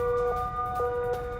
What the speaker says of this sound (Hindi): धमाके के बाद पूरे इलाके में बज रहे हैं सायरन